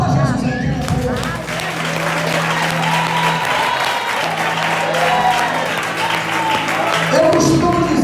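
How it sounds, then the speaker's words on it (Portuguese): A church congregation claps and applauds in praise of Jesus while music plays and a voice carries over the crowd. The applause stays loud and continuous from start to finish. "Aplauda glória."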